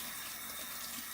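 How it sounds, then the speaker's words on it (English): Tap water runs steadily from a faucet into a sink as hands are wetted before soaping, a continuous close, full rush with no voices over it. "I'm going to wet my hands."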